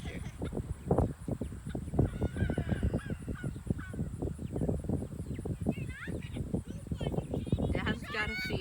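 Turkeys on a farm heading out to pasture, gobbling and calling in dense overlapping bursts among other fowl, close and busy throughout, with a voice talking underneath.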